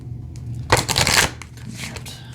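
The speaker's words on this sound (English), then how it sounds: "I'm going to shuffle again because these don't seem to want to" A deck of cards is shuffled in one brisk riffle lasting about half a second, close by, with quiet room noise around it.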